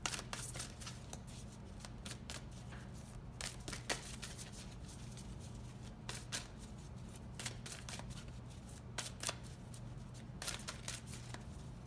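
Tarot cards with heart designs are shuffled and handled close up, giving a steady riffle of soft slaps and flicks with sharper card snaps every second or so over a low constant hum, with no talking.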